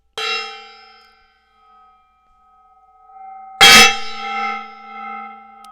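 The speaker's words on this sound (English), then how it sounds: "We're starting the stream off with a gong." A gong is struck twice, close and loud, each hit ringing out with a long shimmering metallic tone that slowly decays.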